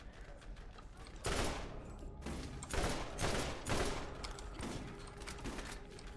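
Shotgun blasts from the video game Borderlands, fired at a badass raider, ring out as a string of loud, sharp bursts about a second apart over background game noise, with no speech.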